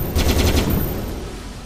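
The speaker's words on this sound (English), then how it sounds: "let me just use the cannons to push myself" A rapid burst of warship cannon fire in the naval game Stormworks, a quick string of close, heavy reports that fades into a low rumble.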